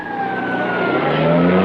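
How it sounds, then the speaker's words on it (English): A car pulls away in an old television sitcom scene, its engine note rising steadily and growing louder over a couple of seconds, heard alone without dialogue. "He's pulling away with the car."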